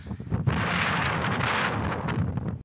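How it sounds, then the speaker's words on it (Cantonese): Strong wind roars across an exposed coastal trail on a dry, semi-desert volcanic island in Portugal, a loud, continuous buffeting rush that fills the whole stretch with no voices. "可以俾大家睇下呢度長期係幾咁大風"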